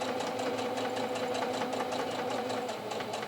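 A sewing machine stitches bargello quilt pieces, a steady close whirring hum with rapid needle ticking that runs continuously before stopping at the very end.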